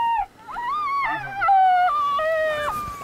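A FoxPro electronic predator caller plays a canine whimper call on a coyote hunt, a loud series of sliding, wavering whines and yelps with steady pitch bends, heard clearly outdoors with no talking.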